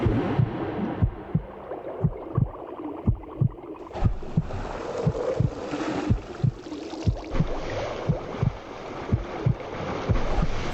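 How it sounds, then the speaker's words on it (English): A heartbeat during a swimmer's effort thumps in a steady, fairly quick rhythm of deep low pulses, with muffled wind and water-like noise underneath. "Her heartbeat must be going through the roof."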